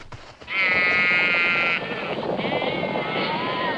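A sheep bleats loudly and close, one long wavering cry followed by a second, over a low background rumble.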